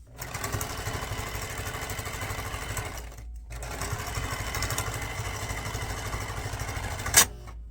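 A sewing machine runs a zigzag stitch on paper and fabric scraps in a fast, loud mechanical whir, briefly stopping partway before resuming, with a sharp click near the end.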